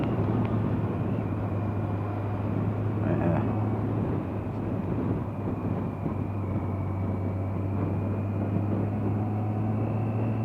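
A 2006 Yamaha FJR1300 motorcycle pulls hard under throttle through a bend on a mountain road, a steady loud engine drone with strong wind roar throughout, the engine note holding constant with slight swells.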